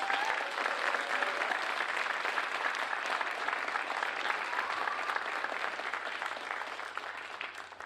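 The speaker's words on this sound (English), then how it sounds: "let's give a round of applause for Mr." An audience at a college Orange Shirt Day of Remembrance event gives a round of applause, with dense, sustained clapping from a sizable crowd that holds steady for several seconds and then begins to fade.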